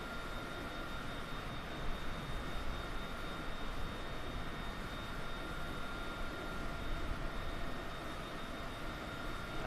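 Steady broadband roar of a jet aircraft engine in the Flight Simulator 2020 video game, a private jet in flight, loud and continuous throughout with no talk.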